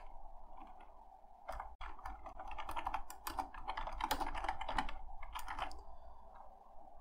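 Rapid typing on a computer keyboard during a Windows 10 command prompt repair, a dense run of clicking keystrokes that starts after a quiet second and continues steadily and close until near the end, with no talking.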